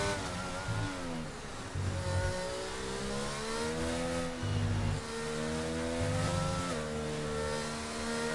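A racing video game car engine revs through a lap at Abu Dhabi, rising and dropping in pitch with repeated gear changes and throttle lifts, steady and prominent with no talk.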